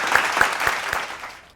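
An audience claps at the launch of an innovation show, a short burst of bright applause that fades out quickly, near and fairly loud.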